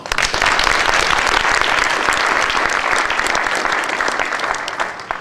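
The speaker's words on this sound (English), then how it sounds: "both of these organizations do deserve a big round of applause." An audience at a Republic Day panel discussion breaks into loud, dense clapping, a crisp crowd of hands close by that holds for several seconds before thinning out.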